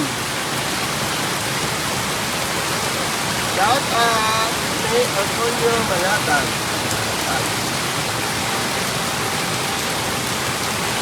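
Heavy rain pours in a loud, steady rush, while a voice briefly speaks over it near the middle.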